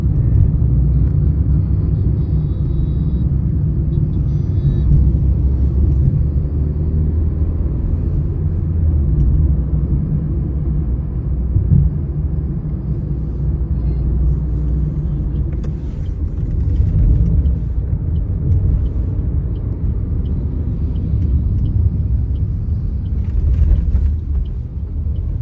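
Steady road traffic rumble from a car travelling the highway between Hyderabad city and the airport, a continuous loud low engine and tyre drone lasting throughout with no talk.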